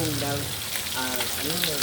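Fish sizzles and crackles as it fries in hot oil for a moment as people talk over it.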